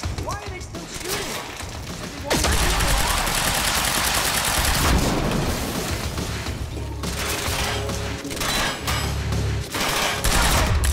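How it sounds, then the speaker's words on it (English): Quantum Break video game gunfire: dense, loud bursts of automatic fire and shots roll almost continuously, with talk breaking in over the din. "Why are they still shooting?"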